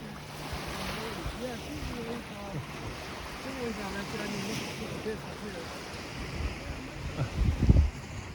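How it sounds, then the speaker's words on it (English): Small waves wash steadily onto the Lake Ontario shore at Scarborough Bluffs in Toronto on a sunny day, with wind buffeting the microphone, voices talking over it, and a louder gust or splash near the end. "So let's just enjoy the water waves."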